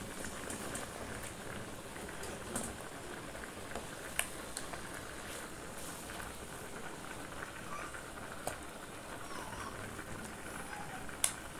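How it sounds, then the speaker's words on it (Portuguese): A steak sizzles in a home kitchen frying pan, a steady close crackling and spitting hiss that runs throughout with a few sharper pops. "E tô fritando o bifezinho."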